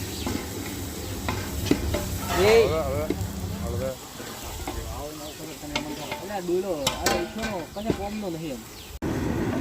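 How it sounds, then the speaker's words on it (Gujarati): Tempering for a vegetable curry sizzles in a hot pan in a home kitchen, a steady broadband hiss with stirring running beneath people talking nearby. "તો શાકનો વઘાર કરી દીધો છે"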